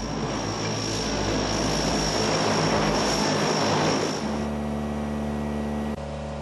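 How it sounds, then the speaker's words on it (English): A Navy cargo plane in flight gives a loud, steady propeller and engine drone with a strong low hum, holding close and constant before easing to a smoother tone near the end. "a strenuous 4-hour flight to Florida on a Navy cargo plane"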